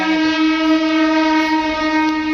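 A passing train blasts a loud, sustained horn close by, one steady unbroken blare lasting the entire moment with no other sounds.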